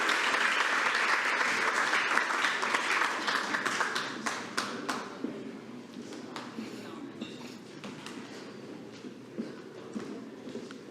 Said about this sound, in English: One more round of applause for our state second place medalist in one-act play.